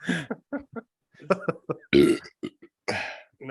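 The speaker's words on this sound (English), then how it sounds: "You're burping on their brain right now." A man lets out several loud, guttural burps in a quick irregular series, short throaty bursts separated by brief silences, close to the microphone.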